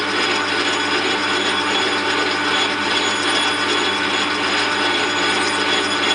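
Power tool cutting a PVC plastic barrel, a loud, steady, close mechanical whir with a dense rattling texture that runs unbroken throughout.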